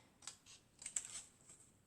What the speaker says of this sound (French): Donc avec vos ciseaux, vous suivez la ligne de travers et vous coupez.